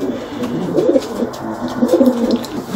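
Racing pigeons coo in a loft, a steady, low, throaty burble of overlapping calls that continues close by without any voices.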